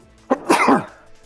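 A single sharp sneeze from a person at a tabletop game session, close and loud, with a short intake followed by a forceful burst and nothing after it.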